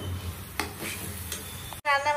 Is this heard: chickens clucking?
no